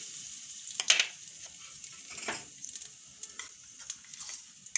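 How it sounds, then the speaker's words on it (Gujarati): Cumin seeds, asafoetida and curry leaves hit hot ghee for a Gujarati moong dal khichdi tempering, giving a soft, crackly sizzle with scattered small pops and spits, fairly quiet and close, with no talking. "તો આપણું આ ઘી ગરમ થઈ ગયું છે. તો પહેલાં આપણે જીરું નાખી દેવું, અને આપણે આ હિંગ નાખી દેવું, મીઠા લીમડાના પાન નાખી દેવું,"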